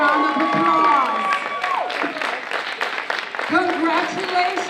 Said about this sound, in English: please stand and give our finalists a hand and a round of applause